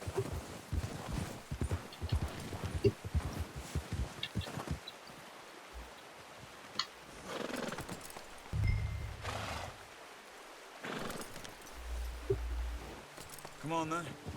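Horse hooves clip-clop in Red Dead Redemption 2, a quick run of close hoof strikes at first, then scattered steps with snorts and rustling, while voices talk over parts of it.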